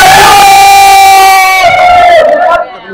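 Loud crowd cheering with sustained shouts and whoops celebrates reaching 1K subscribers, holding strong for about two and a half seconds before trailing off.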